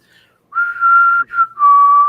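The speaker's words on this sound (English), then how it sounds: "The whistle." A person whistles a short tune: a sustained note, a quick break, then a lower held note, clear and close with no talking.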